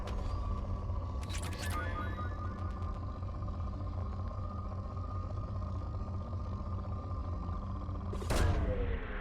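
A probe launches for asteroid mining in Mass Effect 2: a low steady rumble hum with a brief whooshing burst near the start and a louder swelling whoosh and thump toward the end, no talking.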